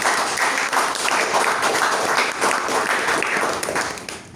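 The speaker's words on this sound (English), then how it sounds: "Give a round of applause to him." Audience applause at a Toastmasters club meeting, a steady roomful of clapping hands that holds for about four seconds before tapering off near the end, with no talk over it.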